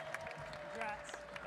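Crowd applause at the 2024 USA Cycling Madison track national championships for Masters Men's 35+ champions, a steady wash of clapping and cheering with an announcer's voice running over it throughout.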